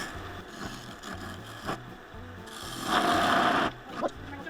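A skew chisel shaving the foot of a wooden piece spinning on a lathe, making close rhythmic rubbing and rasping strokes that swell into a louder, hissing cut near the end.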